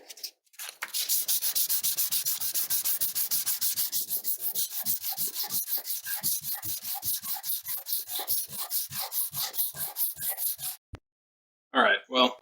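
A replica of Guts' Raider Captain sword from Berserk is hand-sanded with quick, regular back-and-forth rasping strokes, loud and close, stopping abruptly before a brief final scrape.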